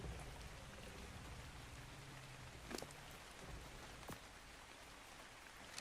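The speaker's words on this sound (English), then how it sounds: "I think it's a rainstorm again" Rainstorm in the video game ARK: a soft, steady wash of falling rain with a couple of faint sharp ticks, quiet and continuous with no voices.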